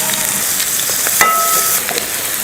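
Chopped onions and garlic sizzle steadily in hot oil with cumin seeds, a continuous broadband frying hiss with a few soft crackles and one brief clink of utensil midway, no voices.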